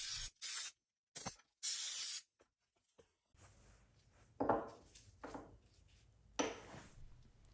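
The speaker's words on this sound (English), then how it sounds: "Let's blow the carburetor out with some compressed air." Compressed air blasts in short, loud hissing bursts through a Stihl 039 chainsaw carburetor, followed by softer, longer sprays close by.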